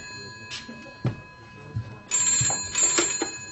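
A telephone rings behind the bar of a village pub, an electronic warble in a couple of bursts over low room noise and murmuring voices.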